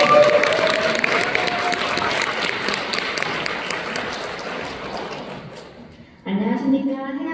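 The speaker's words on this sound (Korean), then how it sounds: "안유진 사장님 올라오실 때 박수 부탁드리겠습니다." Audience applause at a business success-story event as a speaker comes up on stage, a crowd clapping steadily that fades off before a voice begins speaking near the end.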